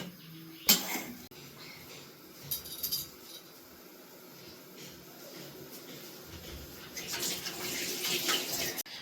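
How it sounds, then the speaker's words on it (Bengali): Thin, watery curry broth simmering in a pan bubbles and gurgles steadily at close range, with a couple of light clinks and a louder burst of churning toward the end. "একদম এটা হালকা একদম পাতলা ঝোল, একটু ফুটুক"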